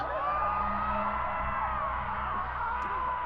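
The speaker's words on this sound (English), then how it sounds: "We're hearing all those screams, but there's literally no people." Distant, eerie screams from the video game Pathologic 2 wail continuously over a steady droning ambient bed, sustained and echoing with no pauses.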